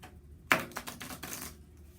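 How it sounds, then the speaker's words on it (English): New, stiff playing cards being shuffled, a sharp snap followed by a quick burst of riffling clicks and flutters, close and fairly quiet, lasting about a second. "I'm gonna shuffle these cards"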